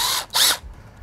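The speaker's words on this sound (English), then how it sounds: "I'm gonna unscrew this and I'm just gonna cover the hole I already used." A power drill backing a screw out of an RV screen door closer: two short, loud whirring bursts close by, separated by a brief gap, then quiet.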